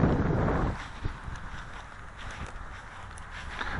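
Strong wind blowing outdoors, buffeting the microphone with a heavy low roar at first, then easing into a steadier, softer rush with occasional gusts.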